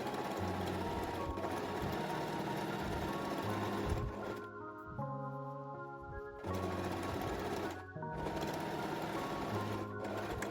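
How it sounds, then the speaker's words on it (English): Sewing machine stitching the top edge of a waistband on straight leg mid waist pants, a steady loud mechanical whir that pauses twice briefly before running on continuously. "We sew this top edge with a 1 centimeter seam allowance."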